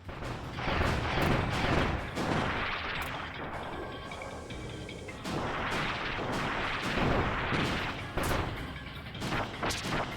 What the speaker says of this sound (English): The mortars here seem to be like the best weapon at my disposal